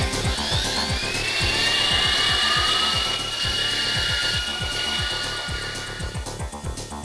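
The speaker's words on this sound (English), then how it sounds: "Oh no, that was the switch for the afterburner." A spacecraft afterburner kicks in within a video game, a loud, sustained roaring whine with rising tones over a rapid mechanical chugging pulse that carries steadily throughout without speech.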